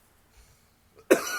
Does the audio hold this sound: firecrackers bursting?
no